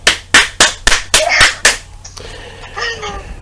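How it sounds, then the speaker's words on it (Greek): About six sharp hand claps ring out in quick succession, loud and close, followed by a voice speaking over a faint background hum. "Κάτσε να σε χειροκροτήσω"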